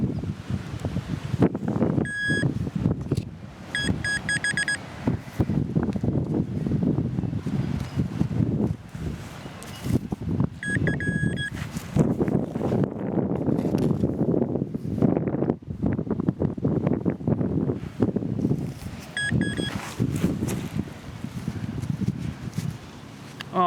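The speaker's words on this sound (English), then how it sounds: "Here comes the wind." Gusty wind blows steadily outdoors during metal detecting at an abandoned property, a loud, broad rumble buffeting the microphone throughout, with faint rustling, a few brief beeps from the detector and occasional footsteps.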